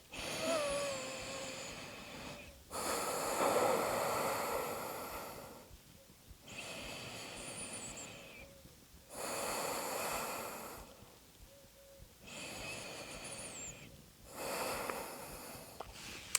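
Deep, slow breaths come in long, audible waves, each several seconds long, during a yoga forward fold. The airy inhales and exhales sound close and breathy, with brief quiet pauses between them and no talking.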